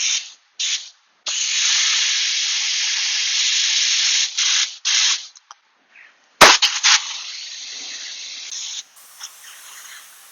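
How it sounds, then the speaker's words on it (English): A spray gun applying Klimate Shield coating hisses loudly in long bursts, starting and stopping several times with short gaps, then a sharp click and more intermittent spraying, close and without talk. "Lock in your spray gun."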